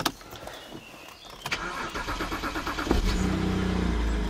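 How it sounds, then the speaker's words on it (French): A car engine cranks with the starter, then catches and settles into a steady idle that grows louder toward the end, with no talking. "Pour ça, je vais démarrer la voiture."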